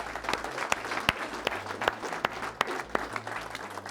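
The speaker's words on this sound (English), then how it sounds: "So big round of applause for ADAPTIV and Lucas." Steady audience applause with a few sharper individual claps popping out, filling the room at a sniper match event; a crowd clapping continuously without voices.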